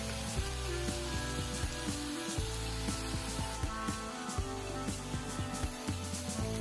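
Mulberry leaves cook with salt in a covered pan, giving a continuous soft sizzle and hiss close by with small crackles and pops throughout, faint and even.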